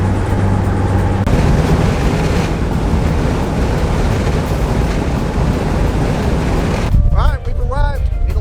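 Strong wind roars across the mic with Atlantic Ocean surf pounding at Melbourne Beach, Florida, during a tropical storm; steady loud broadband rush throughout, with faint voices briefly near the end.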